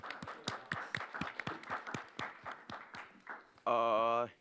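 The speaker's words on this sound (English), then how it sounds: "Yeah, let's clap for him." Members of a student government senate give a short round of scattered, distinct claps at a meeting, the hand strikes clearly separated, before a voice starts speaking at the end.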